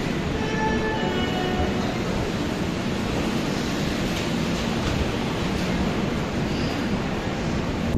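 Steady, loud rumble of the Azad Hind Express running after leaving Raipur, heard from inside an AC 3 tier coach as a continuous broadband roar with no talk.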